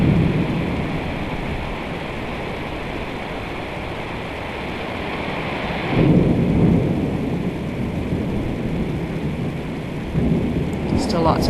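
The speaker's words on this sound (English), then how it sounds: "Still lots of lightning and thunder and a huge curtain of rain." Heavy storm rain pours down in a steady, loud hiss while deep thunder rumbles swell in twice, rolling low under the downpour.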